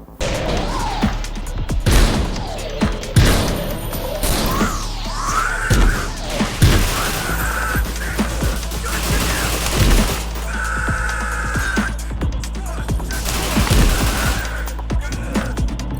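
Gunfire in the cyberpunk shooter game Severed Steel, repeated sharp shots and bursts amid crashes, swooshes and electronic tones, loud and busy over a steady low hum.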